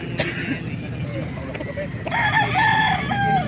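A young gamefowl rooster of the Possum sweater bloodline, about seven months old, crows nearby in a livestock setting, one drawn-out crow rising clearly over background chatter and ambient noise.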